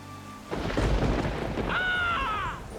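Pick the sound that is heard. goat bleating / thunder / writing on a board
thunder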